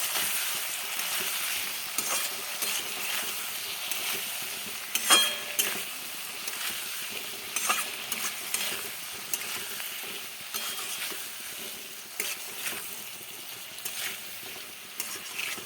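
Chili chicken frying in a pan with chili powder, salt, tomato sauce, chili sauce and soy sauce, a steady soft sizzle broken by irregular scraping clicks of stirring, fairly quiet and close, no talking.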